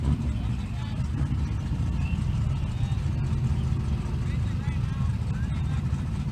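A stick shift GTO runs in the left lane at an Outlaw Street drag race, giving a loud, steady engine roar with a crowd-and-track wash behind it, under a commentator's voice.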